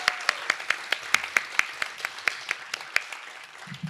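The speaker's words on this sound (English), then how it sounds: "give a round of applause" A small audience at a talk on the overdose crisis in Seattle claps in sharp, fairly sparse and distinct hand claps, moderately quiet, that fade toward the end.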